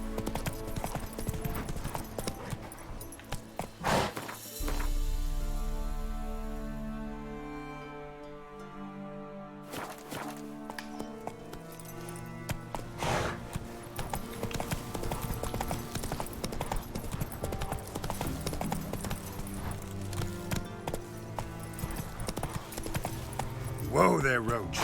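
Roach the horse in The Witcher 3 gallops with continuous rhythmic hoof clip-clop, mixed with game music and effects and brief bursts of other sound, moderately loud throughout.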